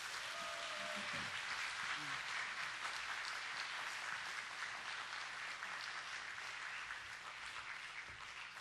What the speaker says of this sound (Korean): 목사님 나오실 때 우렁찬 함성과 함께 큰 박수로 모시겠습니다.